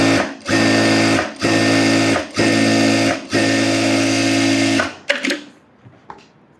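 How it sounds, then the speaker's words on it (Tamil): A sewing machine edge stitches a frock lining in four loud, close bursts of rapid whirring, each separated by a brief pause, before ending in a few clicks and rustles. "லைனிங்கில் எட்ஜ் தையல் போட்டுக்கோங்க."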